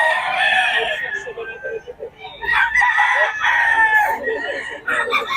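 Farm chickens and roosters crow and cluck loudly and close by, several birds overlapping continuously, with some background voices.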